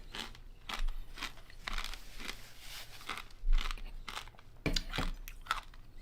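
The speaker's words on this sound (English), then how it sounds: "Crunchy sprinkles." Close crunching and chewing of vanilla ice cream topped with crunchy sprinkles, irregular bites in a quiet room.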